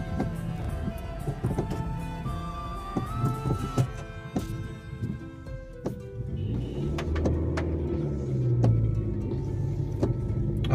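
A car drives along a road, its engine and tyres making a moderate, steady hum inside the cabin, with scattered clicks and knocks over it.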